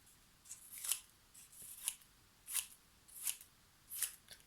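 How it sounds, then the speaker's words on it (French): A child's scissors snip freely through a strip of paper, five crisp cuts in a slow, steady rhythm, close and quiet with no talk. "On va demander à l'enfant de découper de manière libre le bout de papier."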